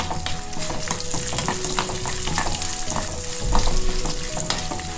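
Ingredients for puliogare, Tamil-style tamarind rice, frying in hot oil in a pan, a steady loud sizzle and crackle with occasional stirring scrapes, close and continuous with no one talking.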